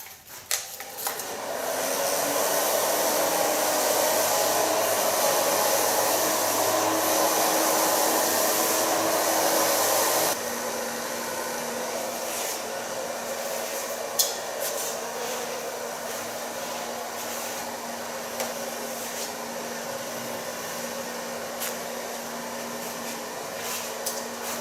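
A hair dryer blow-drying long hair with a large round brush, a loud steady whooshing whir that drops to a lower setting partway through and keeps running alone.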